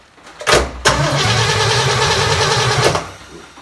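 Engine on a 283 cranking without catching, a short initial burst, then about two seconds of steady rhythmic starter churning that stops abruptly, loud and close with no talk.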